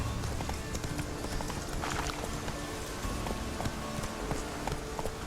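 Hooves of the horse Roach running in The Witcher 3, a steady fast clip-clop rhythm pounding continuously over ambient game sound, close and fairly loud.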